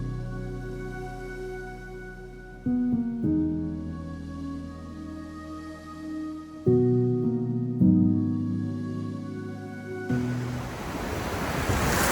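Ocean surf breaking on a San Diego beach, a steady low wash of waves with some wind rumble against the microphone, swelling louder toward the end with no talking.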